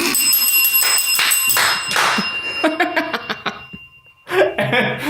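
A bell rings out in a few bright, sustained dings that ring on, with laughter and chatter around it and a short pause before voices return.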